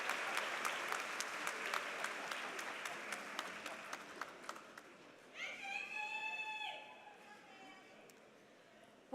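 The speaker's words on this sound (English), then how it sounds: "A round of applause for dignity." Applause from a large crowd at a university undergraduate commencement, dense clapping that fades out over several seconds before a voice comes in over the hall's public address system.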